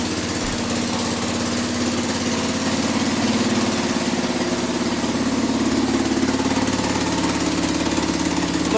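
A Kawasaki 4x4 ATV engine, roughly 600 lb machine, cranks briefly and fires up, then settles into a steady loud idle with a constant low throb, close by and uninterrupted.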